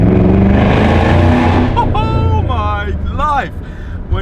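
A loud Shelby GT500 5.4-litre V8 engine roars and revs inside a tunnel, rising in pitch with echoing reverberation as it accelerates, with talking and exclamations over it.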